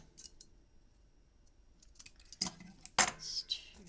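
Scissors or a blade snip wedge pieces for a memory book box, a few sharp clicks and cuts that get louder toward the end after a quiet stretch.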